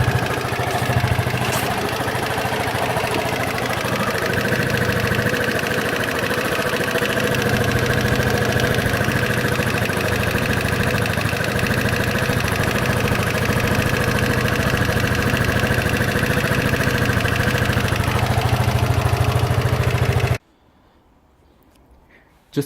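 A SYM Allo 125 scooter engine, freshly reassembled and not yet fully warmed up, idles steadily and close by with an even low rumble for about twenty seconds before cutting out abruptly into near silence.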